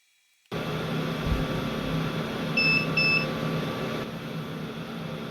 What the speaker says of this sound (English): Those beeps were apparently to indicate that the profile is done heating